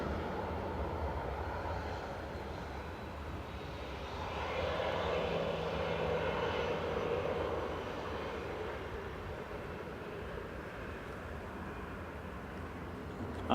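An Etihad airliner moves on the ground at Manchester Airport, a steady distant engine drone that swells briefly in the middle and then settles back.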